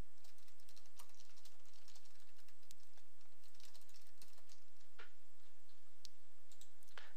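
Computer keyboard typing a custom folder name, a quick run of close, crisp key clicks tapping in an uneven rhythm against a quiet room with no talk.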